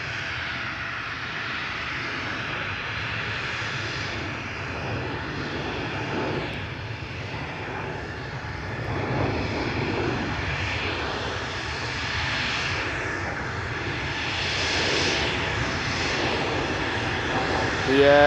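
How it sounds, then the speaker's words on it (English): A passenger aircraft at Amsterdam Schiphol Airport during an aborted takeoff produces a steady, broad engine roar heard from a distance. The roar swells slightly in the middle and near the end, with no talking. "I think we have an aborted takeoff on our hands,"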